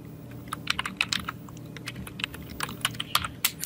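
Rapid, uneven keystrokes on a computer keyboard clack close by as text is entered in Photoshop, with a low steady hum underneath and no voices.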